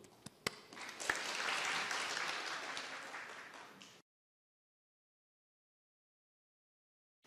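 An audience at a humanities forum applauds for about three seconds after a presenter is introduced, a moderate wash of clapping that swells and fades before silence.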